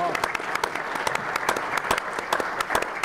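A small audience at a community forum on school safety claps for introduced board members, producing light, sparse applause with a handful of distinct claps standing out over a thin crowd wash.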